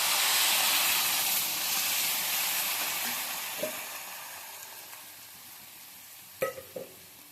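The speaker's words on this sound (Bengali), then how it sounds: "এগুলো আমি ভালো করে ভেজে নিয়েছি এবার আমি দিয়ে দিচ্ছি জল" Water poured onto fried spices in a pan for Bengali shukto gives a loud, steamy hiss that fades gradually, followed by a few sharp clinks of a utensil near the end.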